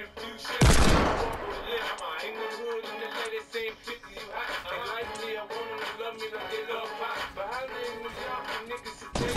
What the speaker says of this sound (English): I just like shooting this kid like 12 times in a row.